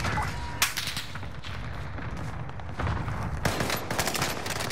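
Hip-fire gunshots in Call of Duty Modern Warfare, several sharp reports and short bursts of rapid fire with heavy low thumps, loud and close, separated by brief gaps.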